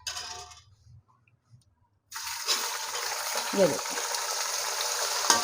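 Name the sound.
chicken meat added to hot ghee and frying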